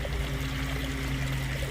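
Water spills continuously over small waterfalls in a backyard pond where ducks play, a steady, even rush and trickle close by, with no talking.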